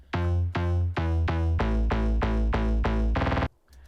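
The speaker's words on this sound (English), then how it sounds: "if I turn off the vocoder, it sounds like this originally." Pluck synth part from a track with its vocoder switched off, playing a run of loud, evenly spaced rich notes that speed into a quick flurry at the end before cutting off.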